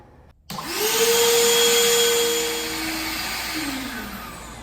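A RIDGID cordless full-size vacuum running on a single 4 amp hour battery switches on after a brief silence and spins up into a loud, steady motor whine that eases slightly toward the end, with no talking.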